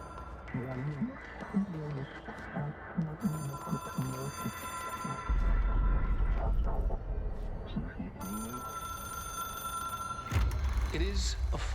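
A telephone rings repeatedly in the video game Control, a steady electronic bell pattern in bursts over dark ambient game music, with someone talking over it between rings.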